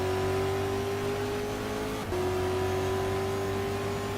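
Race car engine in the sim racing game GTR 2 at the Grobnik circuit in Croatia, droning steadily and loudly as it accelerates, with a brief dip in pitch around a gear change partway through and no talk.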